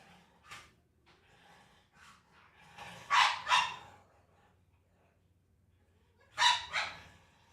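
A big dog barking in a few separate bursts, a single bark early on, then a close double bark, then another pair near the end, with quiet stretches and faint low background hum in between.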